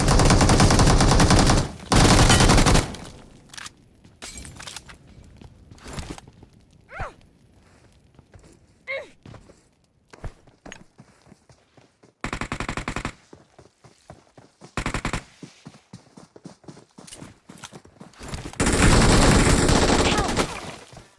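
MG3 machine gun fire in a mobile battle-royale shooter, loud sustained automatic bursts at the start and end, with scattered single shots, footsteps and quieter game sounds in between.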